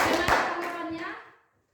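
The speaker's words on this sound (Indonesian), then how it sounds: "Ya, tepuk tangan buat temannya." Classmates in a school classroom give a short burst of clapping mixed with children's voices, and the sound fades to silence within about a second and a half.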